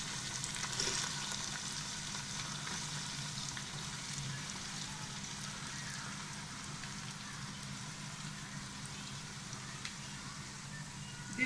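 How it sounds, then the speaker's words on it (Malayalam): Sliced onions sauté for biryani masala in oil left over from frying chicken, giving a faint, even, continuous sizzle like light rain that holds steady for several seconds with no talking. "ചിക്കൻ പൊരിച്ച അതേ എണ്ണയിലേക്ക് തന്നെ നമ്മുടെ മസാലയ്ക്ക് വേണ്ടിയുള്ള ഉള്ളി വഴറ്റാനിടാം."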